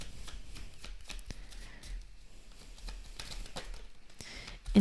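Oracle cards being shuffled for a tarot reading, a steady close riffle and patter of card stock with soft taps, no talking.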